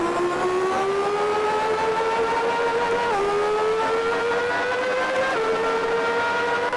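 A race car engine in Grand Prix 2, set in the 1990 season at Phoenix, droning loud and steady as its pitch climbs through the gears, dipping at two upshifts before rising again, with no talk over it.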